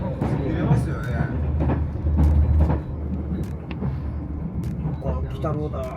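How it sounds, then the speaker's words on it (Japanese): Japanese train decorated with Kitaro yokai characters passing near Sakaiminato Station, its low rumble rising and fading under steady voices of people talking nearby. "鬼太郎電車だ。"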